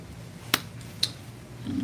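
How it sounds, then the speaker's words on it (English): At a live poetry reading, two sharp finger snaps ring out about half a second apart, soft and slightly distant against a quiet room hum, followed by a low murmur. "Clap it up, yeah, snap for that."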